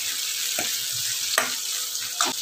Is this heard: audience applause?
no